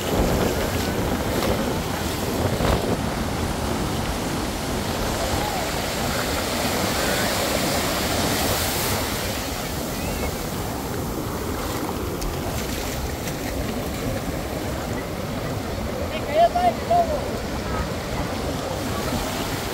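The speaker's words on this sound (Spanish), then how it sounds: "Miren esa ola." Ocean waves wash in at the seashore, a steady broadband surf roar with wind buffeting the microphone throughout, while a few faint voices talk now and then.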